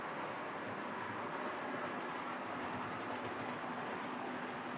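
A runaway uncoupled train car rolls along in a train simulator game, giving a steady broadband rumble with faint clickety-clack texture and a low hum, continuous and moderately close, with no talking.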